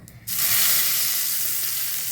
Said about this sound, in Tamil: நல்லெண்ணெய் ஊற்றி கடுகு பெருங்காயத்தூள் கருவேப்பிலை போட்டிருக்கேன்